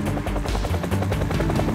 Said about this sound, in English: The most important of these was the UH-1 Huey helicopter.